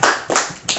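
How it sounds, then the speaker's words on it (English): A few hand claps at a stand-up comedy show, spaced out in a slow, deliberate rhythm, close and fairly loud with no talking over them. "We should do a slow clap."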